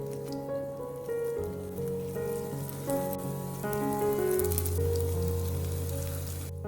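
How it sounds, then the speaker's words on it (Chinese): Small potato cakes fry gently over low heat in a little oil in a flat pan, a soft, faint crackle and patter beneath a quiet, steady background hum. "开小火慢慢煎"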